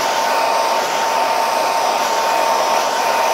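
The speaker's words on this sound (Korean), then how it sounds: "블렌딩 들어갈 때는 무조건 머리 말려줘." A hair dryer blows steadily and loudly throughout, drying a man's short hair during a clipper haircut in a salon, with no pauses and no voices.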